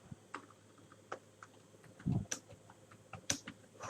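A computer keyboard clicks with soft, irregular keystrokes as a search keyword is typed, quiet and close, with no voices.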